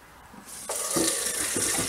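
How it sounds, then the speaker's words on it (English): Hot water runs from a tap into a container for canning pork broth. The flow starts suddenly and then splashes steadily and close by. "I'm going to fill this up with nice hot water"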